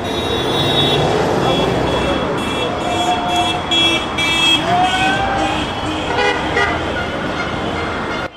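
Car horns honk repeatedly over a loud, dense street crowd celebrating in Rostov-on-Don during the 2018 World Cup, with long blasts and short toots overlapping amid general noise.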